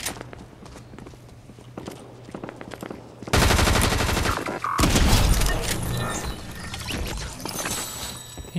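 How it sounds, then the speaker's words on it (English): Video game gunfire in Fortnite Battle Royale: light clicks and steps at first, then a sudden loud burst of rapid automatic fire that stops and resumes, continuing to the end. "he shot the Captain America"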